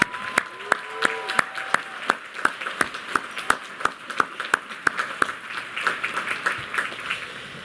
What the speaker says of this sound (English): I would like to extend an extremely warm round of applause to all of the graduates that sit before